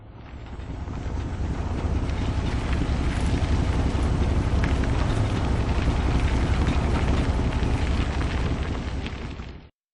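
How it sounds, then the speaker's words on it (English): A sea tractor ride to the island in the video game Agatha Christie: Evil Under the Sun: a continuous loud rumbling roar of motor and wind fades in, holds steady for about nine seconds, then cuts off abruptly. "This sea tractor is a rare contraption, isn't it?"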